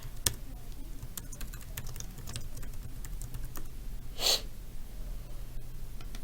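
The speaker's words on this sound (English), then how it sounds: "you're going to type in your email address and your password." Fingers tap an email address and password on a computer keyboard, giving a quiet, irregular run of light key clicks over a steady low hum, with one brief louder burst near the end.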